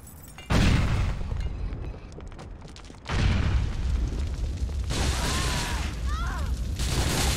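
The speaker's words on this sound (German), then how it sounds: "Explodier, explodier! Wieder Rohrbombe." Pipe bombs go off in Grand Theft Auto IV, two heavy booming blasts a few seconds apart, each followed by a long loud rumbling roar of debris and noise.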